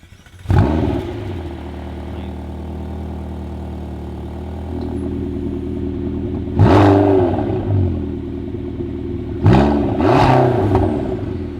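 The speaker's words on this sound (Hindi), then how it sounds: "एग्जॉस्ट नोट जो है वो मैं आपको अभी सुनाता हूँ" A McLaren GT idles with a low rumble, then its engine is revved three times in sharp, loud bursts that rise and fall, heard up close with no talking.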